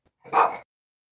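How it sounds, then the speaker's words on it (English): A single short, loud bark from a nearby dog, alone in otherwise quiet surroundings. "I'm trying not to look back at him so he won't bark at me"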